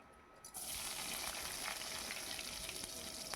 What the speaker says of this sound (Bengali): এবার কড়াইতে আমি একটা গোটা শুকনো লঙ্কা ফোড়ন দিচ্ছি আর এখানে কুচি করে রাখা যে আমার রসুনটা আছে ওটা আমি এখানে অ্যাড করে দিচ্ছি